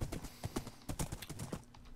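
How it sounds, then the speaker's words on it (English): Horse hooves clip-clop in a rapid, steady galloping rhythm in the Sevtech Ages video game, close and fairly loud, with an occasional faint whinny and no talk over it. "Oh, that's a horse."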